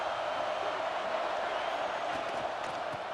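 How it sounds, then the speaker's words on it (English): Steady stadium crowd roar in a college football video game, Ole Miss home environment, a continuous wash of noise with faint scattered cheers, no clear talk over it. "Listen to the crowd energy here in the early going."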